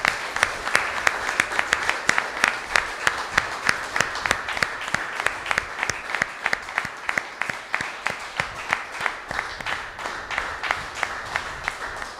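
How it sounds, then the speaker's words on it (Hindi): Sustained audience applause at a Hindu guru's sermon gathering, a dense bed of many hands clapping with steady, evenly spaced loud claps running throughout. "ताली बजाएं, गुरु पद की अभिवंदना करें।"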